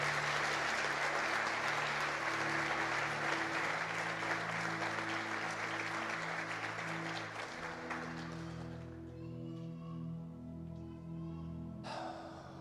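A church congregation applauds loudly and steadily at a Sunday service, the clapping sustained for about eight seconds before thinning out and fading, with organ or keyboard chords held underneath throughout.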